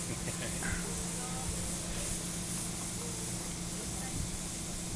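A Meiji-era steam train in Tsuwano hisses steam in a steady, loud, broadband rush that holds unbroken for several seconds, with faint rumble beneath and no talking.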